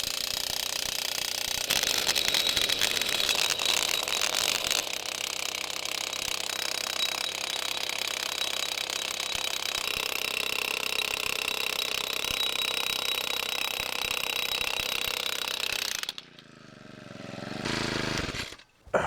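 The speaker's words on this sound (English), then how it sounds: "Come on, go my little post driver." A Vevor post driver runs with a steady engine drone and rapid mechanical hammering, loud and close, shifting pitch partway through before cutting out near the end.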